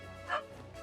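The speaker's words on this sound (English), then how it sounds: "Apologies for the barking dog." A dog gives a single short bark somewhere in the room, moderately faint over a steady background hum from a game livestream, with no talking.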